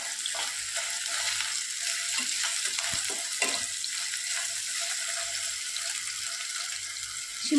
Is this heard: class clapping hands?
no